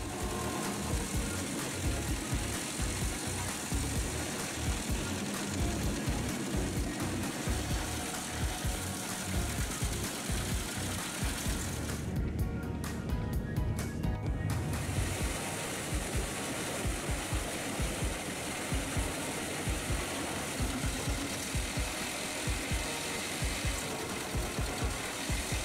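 A Pezzolato PTH1000/1000 Hackerock drum wood chipper with a 450 horsepower MAN engine runs steadily, its drum churning in a loud, continuous mechanical roar with rhythmic knocking pulses throughout, a brief lull near the middle.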